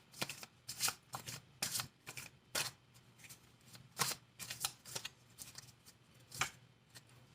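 Tarot cards being shuffled by hand in repeated quick riffling bursts, close and fairly quiet, with short pauses between shuffles and no talking.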